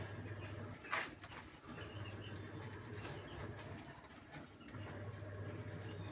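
Low, soft cooing of a bonded pair of pigeons repeating in short phrases, with a faint rumble and a brief flutter or chirp in the background.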